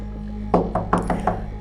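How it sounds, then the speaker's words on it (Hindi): A knock at a door in a Hindi horror story, five separate knocks in an uneven rhythm, close and fairly loud over a low background hum. "तभी दरवाजे पर आहट हुई"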